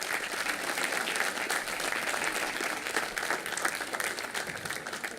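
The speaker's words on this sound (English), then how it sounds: "let's just give them a huge round of applause and say a big thank you" A hall audience at a business conference gives the women among them a big, sustained round of clapping, dense and continuous throughout.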